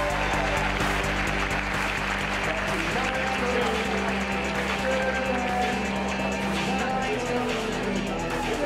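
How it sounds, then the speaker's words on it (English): A large hotel-ballroom audience at a Houston sports awards show claps steadily and continuously, a dense wash of applause over a low mechanical hum, with voices mixed in. "It's okay to keep clapping."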